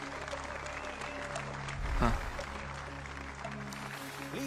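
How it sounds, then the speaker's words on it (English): Studio audience applause at a television game show, steady crowd clapping with a swell near the middle, running under music throughout. "Please give a big round of applause."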